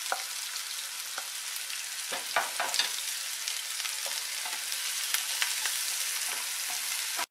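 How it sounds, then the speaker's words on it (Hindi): Chopped onions frying in hot oil in a pan for masala Maggi, a continuous soft sizzle with scattered crackles and a few louder pops, steady throughout and unaccompanied by voices. "इसमें अब हम डालेंगे कटे हुए प्याज और इसे हम 2 मिनट भूनेंगे"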